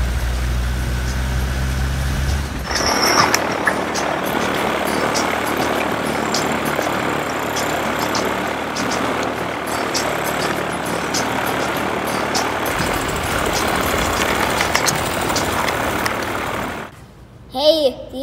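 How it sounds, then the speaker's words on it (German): A loud, steady engine roar with a broad rumbling drone fills the whole stretch, cutting off abruptly near the end, followed by a brief quieter moment. "Ein Flugzeug macht einfach so viel Krach."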